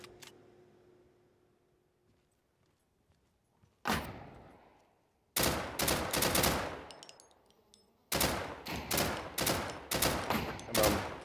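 Gunfire in the video game Deadside: a single early crack, a sharp shot, then two rapid automatic bursts of closely spaced loud reports separated by a brief pause, harsh and near with no talk.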